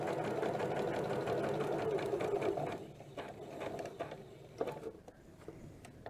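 A sewing machine runs steadily while stitching quilt binding, humming close and continuous for a few seconds, then breaking into shorter, quieter bursts with small handling clicks.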